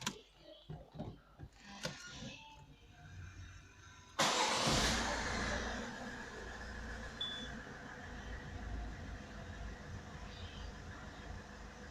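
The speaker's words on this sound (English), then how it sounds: "now I can start the engine" Peugeot 307 2.0 HDi diesel engine cranking in a few uneven bursts, then catching with a sudden roar that settles into a steady, rattly idle, close by.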